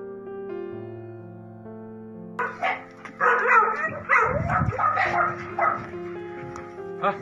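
Rescued sled dogs from the Harbin area barking and whimpering, a cluster of close, insistent barks and whines arriving after a few seconds over sustained background music.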